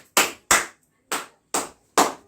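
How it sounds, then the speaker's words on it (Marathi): Hands clapping during a puja ritual, five sharp, close claps in an uneven rhythm with short silences between, no talk. "3 वेळा टाळी वाजव"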